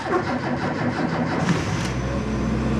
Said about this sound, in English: Choke out. Let's give it a go.